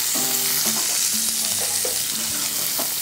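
Onions and green chillies fry in a pan for a cauliflower and egg dish, giving a steady, close hiss and crackle with a few soft tonal hums underneath and no talking.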